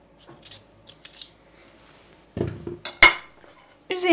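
Beet pieces drop into a metal cooking pot with a few hollow clunks and clinks, separated by quiet pauses.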